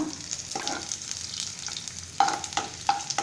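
Finely chopped small onions drop into hot oil already popping with mustard seeds, setting off a steady sizzle with sharp crackles and pops growing louder toward the end.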